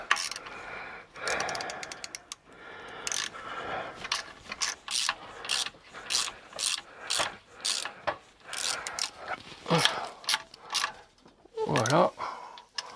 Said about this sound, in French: Attends, je visse un peu à la clé.